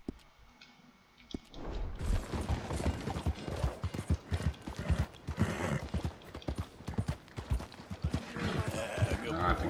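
Horse hooves clip-clop rapidly and steadily in Red Dead Redemption 2, loud and close, starting after a quiet two-second lead-in and continuing with occasional creaks and a whinny.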